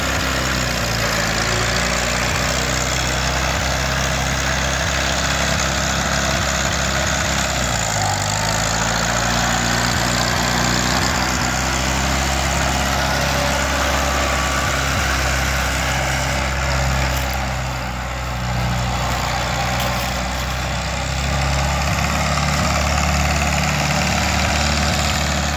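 A 1949 Farmall Cub tractor engine idles close by with a loud, continuous throb. It dips briefly partway through and then settles back, with no speech.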